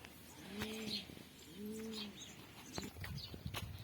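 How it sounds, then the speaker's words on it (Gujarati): Pigeons cooing nearby in two distinct bouts of low, rolling calls, followed by softer chirps and some rustling in the background. "તમને કબૂતરા દેખાડ દઉં"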